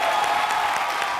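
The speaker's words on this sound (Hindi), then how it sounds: "बमन सर के लिए जोरदार तालियां।" Studio audience at a comedy show applauding loudly in a dense, steady wash of clapping and cheering, continuous and close throughout.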